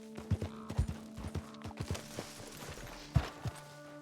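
Hooves clop at a slow walk in Red Dead Redemption 2, a horse climbing toward a high peak, irregular thuds over a faint background hum, fairly quiet and close.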